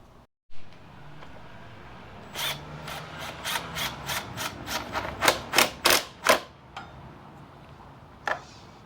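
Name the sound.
ratchet used on BMW C650GT front wheel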